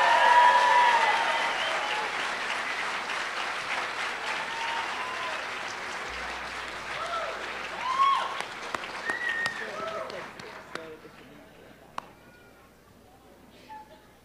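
A large audience applauds the 2022 graduating class at a physician assistant studies commencement, loud sustained clapping that gradually thins and fades out, with some cheering voices mixed in.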